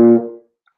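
A band instrument plays one short, brassy note from measure 50. It sounds bright at first and fades out within half a second, leaving silence.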